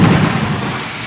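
Thunder rumbles loudly during a heavy rainstorm, a broad, deep roll that slowly fades over about a second.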